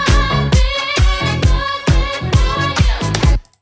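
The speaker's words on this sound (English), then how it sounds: "Then you want to add a kick to have a bit more punch." A punchy kick drum thumps in a steady four-on-the-floor beat under a filtered disco loop, loud and close, with no talking, ending abruptly after a few seconds.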